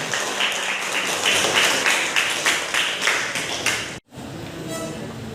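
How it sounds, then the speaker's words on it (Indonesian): Classroom applause from a group of students and teachers, dense steady clapping for about four seconds that cuts off abruptly, followed by quieter room noise. "Oke, tepuk tangan."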